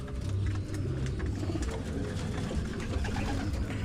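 Pigeons coo repeatedly at a pigeon loft around bath time, with soft overlapping low calls close by and no talk.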